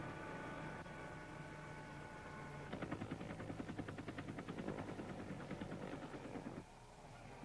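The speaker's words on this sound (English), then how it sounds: "Approaching terrorist helicopter is eliminated by machine gun fire from the protected security" Helicopter and machine gun fire in a 1972 security training film: a low rotor drone gives way to a rapid, evenly pulsed burst of automatic fire lasting several seconds, fairly faint, then cuts off.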